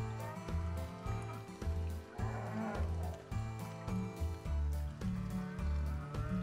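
Cows moo repeatedly in the Farm Manager 2022 video game, low drawn-out calls coming in a steady rhythm over a busy game soundscape with music-like tones, fairly loud and without talk.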